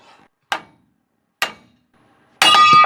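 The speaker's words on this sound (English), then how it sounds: "grab the little Mighty Max hammer and beat the bejesus out of this knuckle" A small Mighty Max hammer strikes a Jeep steering knuckle during ball joint work, two sharp, separate metallic blows followed by a third ringing clang that keeps sounding.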